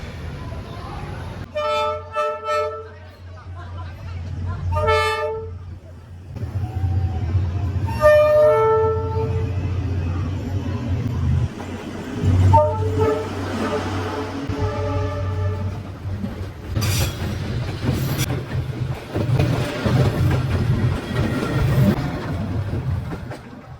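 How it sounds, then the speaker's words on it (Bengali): A train arrives and passes through Hanoi. A deep, steady rolling rumble carries several loud, drawn-out horn blasts early on, with clattering wheels and faint voices later. "ট্রেন আসবার অপেক্ষায়।"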